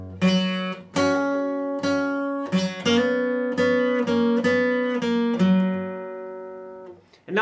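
The third section of a guitar intro, played at a somewhat quicker pace, with a close, continuous run of about ten picked notes and chords that ring into one another over several seconds.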